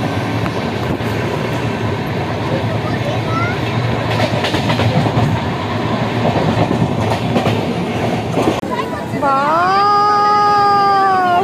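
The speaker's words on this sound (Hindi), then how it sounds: "तो आ चुका है हम लोगों का ट्रेन, यही ट्रेन से हम लोग जाएंगे।" The Howrah to Chennai Mail rolls into a station with a loud, steady rumble and clatter of railway cars, ending in rising, sustained wheel squeals as it slows, with people talking nearby.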